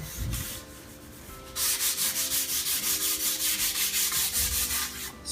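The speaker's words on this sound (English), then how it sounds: "when you're sanding between your second and your last coat" Sanding a stained wood cabinet door between finish coats, with a steady, rhythmic rasp of close strokes repeating evenly after a brief softer pass at the start.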